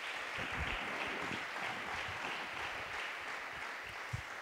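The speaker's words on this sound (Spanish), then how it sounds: "Dale ese aplauso bien fuerte a Jesús." Church congregation applauding for Jesus at a Spanish-language sermon, a faint, distant, even wash of clapping sustained throughout with a few low thumps.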